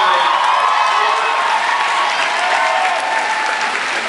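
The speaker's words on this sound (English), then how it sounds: "Give a big round of applause to his family." An audience at a Kent State speaking event breaks into loud, sustained applause with some cheering and whoops mixed in, filling the room continuously from start to finish.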